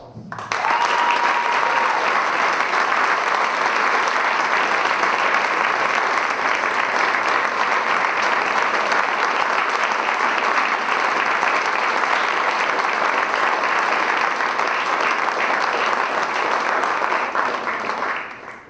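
Sustained applause from a convocation audience saluting award winners at an honors ceremony, a broad steady wash of many hands clapping that starts abruptly and holds evenly for about eighteen seconds before stopping.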